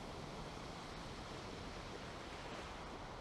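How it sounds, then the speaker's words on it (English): Steady, close wash of ocean surf in the video game Valheim, an unbroken roar of rolling waves with no pauses or voices. "These waves are going to make it tough."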